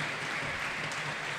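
Spectators at a men's handball match between CYEB-Budakalász and Balatonfüredi KSE applaud an injured player. The clapping is steady and dense, with a distant arena feel, and nothing else stands out.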